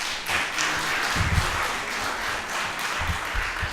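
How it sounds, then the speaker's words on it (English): An audience at an annual lecture breaks into a round of applause, a dense wash of clapping from many hands with a few louder, nearer claps and soft thumps, steady throughout. "I think we should just give them a round of applause."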